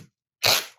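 Packing tape ripped quickly off its roll, a single loud tearing screech of under half a second after a brief quiet gap.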